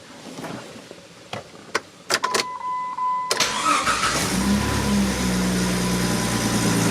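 The engine of a camper bought at a salvage auction starts after a quick rewiring: a few sharp clicks and knocks, then a loud crank that catches and settles into a steady, close idle.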